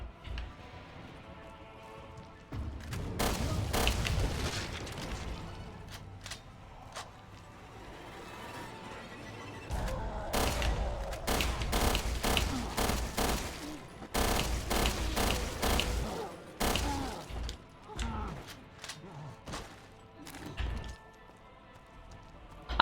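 Gunfire from the survival horror game Resident Evil Revelations 2, with scattered shots and then rapid repeated bursts, loud and close, with calmer stretches of game ambience between them.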